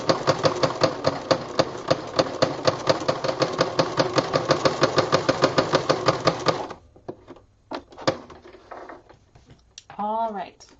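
A sewing machine runs two parallel basting seams in rapid, regular, clattering stitches at close range for several seconds, then stops; a voice and handling noises follow.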